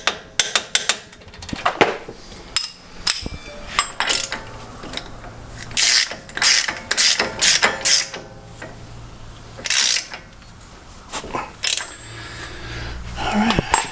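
Ball joint bolts on a 2016 Jeep JK are tightened with a torque wrench to 75 foot-pounds. Sharp metallic ratchet clicks and knocks come in irregular bursts, loud and close, with tools rattling between them.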